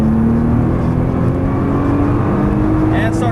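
Nissan GT-R engine pulling hard on a race track heard from inside the car, a loud, steady roar that rises gradually in pitch under continuous cabin noise.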